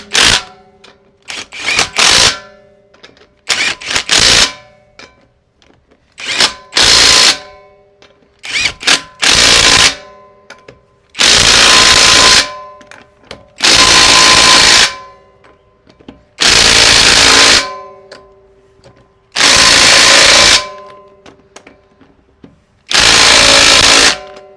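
An impact wrench fitted with a 90 ft-lb torque stick tightening lug nuts on a 2010–2014 Ford Mustang: repeated loud bursts of rapid hammering, short at first, then longer sustained runs separated by brief pauses, close up.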